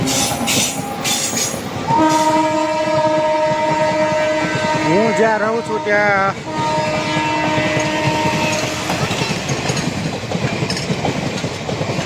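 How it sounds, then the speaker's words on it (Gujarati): A train rumbles past while its horn blares a long, steady tone, with someone talking over the clatter. "પાછળ ટ્રેન નીકળે તો જોઈ શકો"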